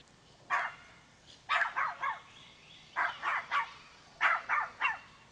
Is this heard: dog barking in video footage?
yes